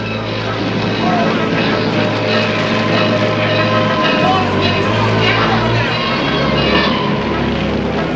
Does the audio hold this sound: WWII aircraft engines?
yes